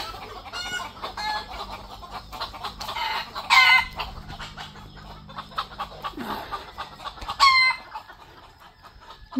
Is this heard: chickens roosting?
yes